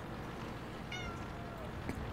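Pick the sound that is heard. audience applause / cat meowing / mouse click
cat meowing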